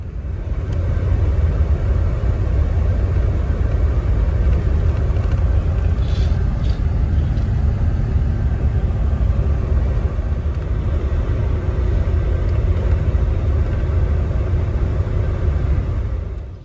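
Sinar Jaya Suite Class intercity bus driving on the Jakarta–Surabaya route near Bungurasih terminal, heard as a steady, loud low rumble of engine and road noise from inside the cabin, continuous with no talk.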